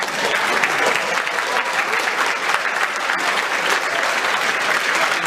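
An audience at a campus speaking event claps continuously, a dense, even wash of applause at close range that holds steady throughout.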